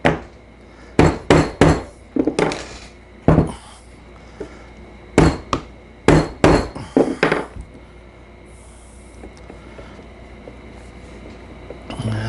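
Sharp metallic taps from a hammer striking a Hardinge speed chuck, coming in quick clusters of two or three with brief pauses, then a quieter stretch.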